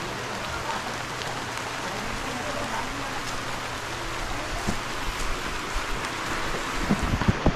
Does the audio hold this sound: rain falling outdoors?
yes